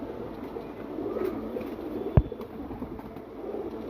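A female pigeon coos softly and close by, a low murmuring call over a steady hum, with one sharp knock partway through.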